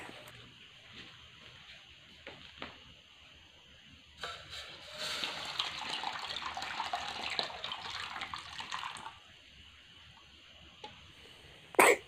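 Hot salted water is poured into cold water, a soft continuous splashing pour at close range lasting several seconds amid quiet room sound, with a small clatter at the end.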